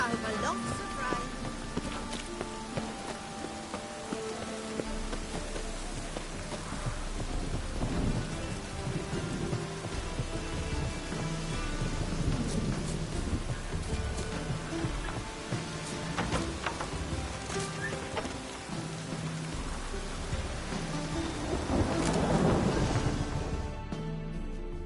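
Steady heavy rain with low rumbles of thunder in The Witcher 3, swelling and fading throughout, with a louder roll near the end and some voices mixed in.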